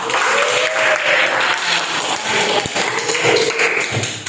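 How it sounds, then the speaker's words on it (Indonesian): A classroom of students applauds one classmate with steady, close clapping lasting several seconds, a few thumps and faint voices mixed in. "kita berikan aplaus kepada Mas Jofar"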